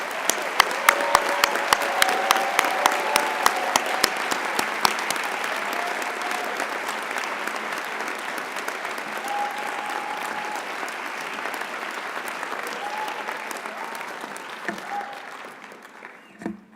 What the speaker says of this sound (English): Let's have a round of applause for the graduates